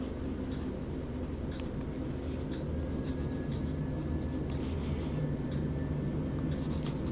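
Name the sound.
writing with Noodler's Boston safety fountain pen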